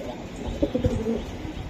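Giribaz pigeons, a pair kept for sale, coo in a few low throaty bursts close by with faint chirps in the background, no talk.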